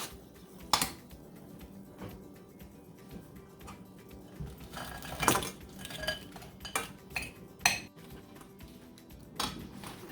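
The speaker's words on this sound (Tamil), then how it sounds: "நான் இனி இதோட நண்டை சேர்க்கிறேன்." Crab pieces go into a simmering curry pot of tomato, with scattered clinks and knocks of utensils against metal cookware, fairly faint and intermittent.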